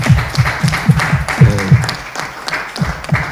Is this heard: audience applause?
yes